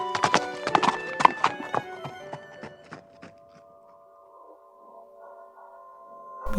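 A horse sets off with a rider, hooves clip-clopping in a quick, uneven run of hard knocks that thin out and fade to sparse taps, with a short whinny-like tone trailing near the end.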